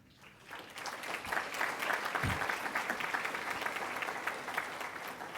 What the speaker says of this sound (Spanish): el aplauso también caluroso para ustedes de bienvenida